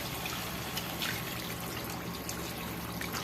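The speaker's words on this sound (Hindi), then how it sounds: "इस पॉइंट पे हम अब इनको पानी लगा देंगे।" Water poured into a pot of aloo gosht being cooked, a steady, continuous trickling splash running close and moderately loud throughout, with no voices.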